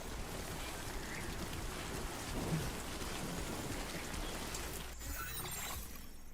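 Steady rain falls through a night scene in the video game Death Stranding 2, a dense continuous hiss with a faint low rumble of thunder, unbroken for the whole stretch with no voices.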